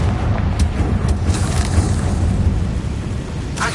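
Confringo blasting curse explosions in a Hogwarts wizarding video game, a loud continuous rumbling boom with repeated bursts layered over deep low roar throughout.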